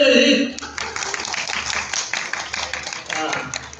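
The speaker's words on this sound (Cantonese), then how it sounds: "俾掌聲你哋先" An audience applauds dancers at a Chinese folk dance performance by seniors and youth volunteers. Scattered clapping rises after a brief voice and continues unevenly under talk.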